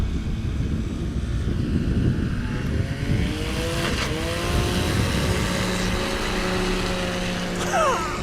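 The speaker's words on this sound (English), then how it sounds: "Probably hear how all the fire breathing that is happening right now on the front end of that airplane." A STOL airplane powered by a Yamaha Sidewinder engine runs and revs at a practice event in Creswell, Oregon, its rough, pulsing engine drone rising in pitch as it passes, loud and continuous, with a brief high squeal near the end.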